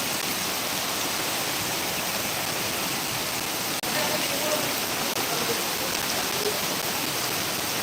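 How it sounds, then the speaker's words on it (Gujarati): Heavy rain pours down in Panthawada, a dense, steady hiss of downpour filling the air evenly from start to finish at moderate loudness. "પાંથાવાડામાં ધોધમાર વરસાદ ખાબકી રહ્યો છે"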